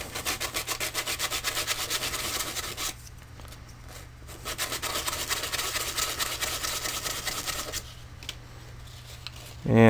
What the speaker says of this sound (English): get some sandpaper, and roughen it up a little bit.